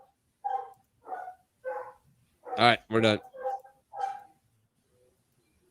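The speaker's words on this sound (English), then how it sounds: "Who's barking in the back, by the way? My dogs" Dogs barking in the background, several short separate barks and yips spaced across a few seconds, with a brief burst of louder close speech in the middle.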